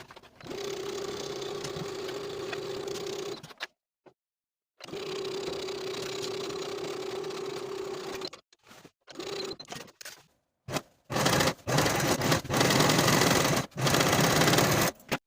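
Domestic sewing machine stitching the side seams of a skirt, a steady continuous whir in several long runs broken by pauses and short stop-start bursts, close and fairly quiet.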